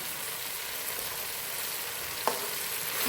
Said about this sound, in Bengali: আর এভাবে ভালো করে পেঁয়াজটাকে নরম করে কষিয়ে কষিয়ে মশলাটাকে ভালো করে কষিয়ে নিতে হবে